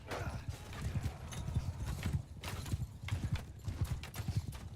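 Donkey hooves clip-clop in a video game, a busy, continuous run of hoof strikes at close range, with a faint whinny and some voices mixed in beneath.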